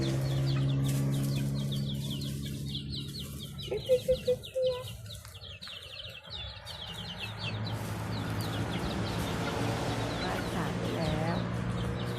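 Chickens and chicks cluck and peep throughout, a busy, close flock with bursts of clucking and high chirps, while someone talks over them at times.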